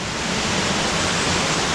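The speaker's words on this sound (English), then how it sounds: "That's where the stream goes through." Stream swollen by recent rain at Woody Bay near Lynton and Lynmouth, a loud continuous rushing of water, steady and close, with no talking.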